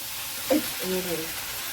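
Food fries in a pan with a soft, steady sizzle that continues throughout, while a voice briefly speaks over it mid-clip.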